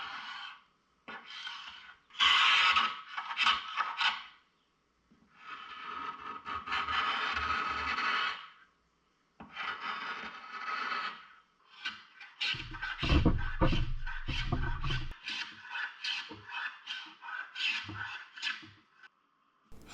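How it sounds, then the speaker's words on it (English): A hand scraper strips old finish from a mid-century modern wooden furniture piece in repeated rasping strokes, some bursts long and sustained and a later run short and rhythmic, close and fairly loud with brief pauses between passes. "I figured I would try to remove the finish using my scraper"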